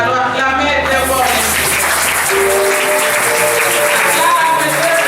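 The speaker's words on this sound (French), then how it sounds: "Nous allons acclamer très fort." A church congregation at a Protestant service in Ngiri-Ngiri bursts into sustained applause and cheering, dense continuous clapping from a large crowd, loud and close, with voices and music mixed in throughout.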